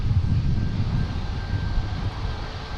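Southwest airliner rolling along a taxiway at Minneapolis–St. Paul airport after arriving, its engines giving a steady, moderately loud low rumble and whine throughout.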